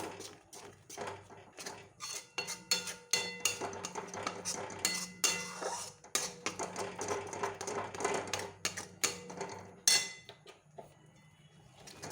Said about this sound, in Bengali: আমি এবার কড়াটা নামিয়ে নেব